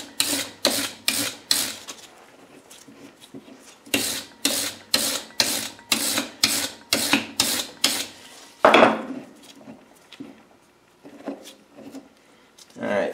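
Rhythmic scraping strokes cleaning up a taper pin on a shaft in a 13-inch South Bend lathe gearbox, close and crisp in two bursts of regular strokes, followed by a clunk and quieter scattered scrapes.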